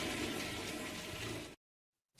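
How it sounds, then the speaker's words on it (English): A toilet flushes in a loud, close, rushing surge of water that runs steadily and then cuts off abruptly into silence, followed by a brief noise as the sound returns. "the toilet flushing sound"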